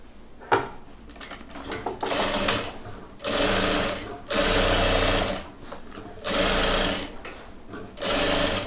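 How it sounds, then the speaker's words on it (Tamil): Sewing machine top-stitching a seam on a chudidhar pant, loud rapid mechanical runs of a few seconds each, broken by pauses with quieter handling noises in between. "இந்த ஜாயிண்ட்டுக்கு ஒரு மேல் தையல் போடலாம்"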